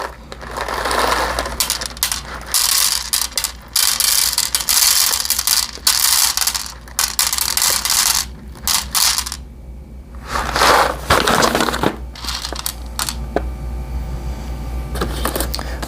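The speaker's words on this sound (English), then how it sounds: "these beans were very hard. So they were very harsh on the burrs and the grinder" A burr grinder crushes very hard coffee beans in a close, steady stretch of harsh mechanical crunching and rattling, with short pauses and one longer break before the grinding resumes.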